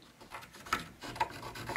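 A pencil traces a line on pallet wood, giving quiet, close scratchy rubbing strokes in an uneven rhythm, faint and heard alone.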